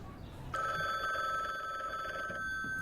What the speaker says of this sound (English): Why is the phone ringing?